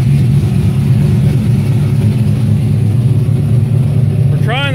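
A Camaro's engine runs steadily with a deep, loud, rumbling idle that holds throughout, heard close by, with a brief voice at the very end.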